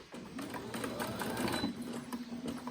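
A sewing machine stitches a fabric face mask and runs in reverse to back-tack the seam, a close, continuous rapid mechanical clatter with a steady motor whine throughout.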